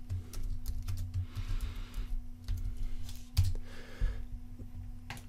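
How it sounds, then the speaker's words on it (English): Someone types text into CAD software on a computer keyboard: uneven runs of light clicks and taps, fairly close and moderately loud, with brief pauses and a steady background hum. "now I just type in the text that I want."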